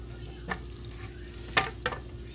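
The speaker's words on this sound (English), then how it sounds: "We're gonna let the butter just melt. I've turned the heat down to medium heat." Butter melting in a pan over medium heat, ready for asparagus, gives a soft steady sizzle with a few brief scraping clicks from a utensil, close and fairly quiet.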